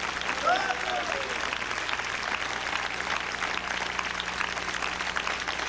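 Church congregation applause during a sermon, a continuous, fairly distant rattle of clapping with a few voices calling out early on, holding an even level over a faint background hum.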